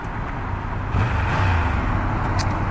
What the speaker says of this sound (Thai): เครื่องยนต์สามสูบ เสียงมันแปลกๆอะ่ะ